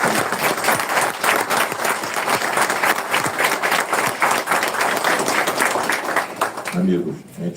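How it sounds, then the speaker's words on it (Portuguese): Audience applause at a talk held at Lar Dom Ignacio de Loyola, a dense wash of many hands clapping that runs steadily and loudly before breaking off abruptly near the end, where a voice begins. "Uma salva de palmas"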